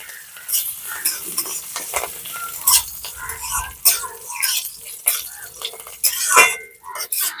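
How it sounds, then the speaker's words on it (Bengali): Spoon scraping and clinking against a pan in irregular strokes while curry leaves sizzle underneath, close and fairly loud. "এবারে সবকিছুকে একটুখানি নেড়ে ছেড়ে খানিক্ষণ ভেজে নেবো"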